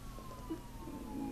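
A police siren wails faintly in the distance, a steady drawn-out tone under a low background hum, with no talking.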